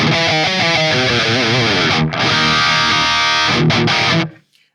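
Loud, heavily distorted electric guitar through a high-gain MERCURIALL AmpBox 6160III amp, playing a sustained riff with thick gain, ringing out and cutting off abruptly at the end.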